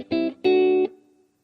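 Neo soul jazz guitar strumming a quick pair of major triad chords, two short ringing strums followed by a brief decay to silence.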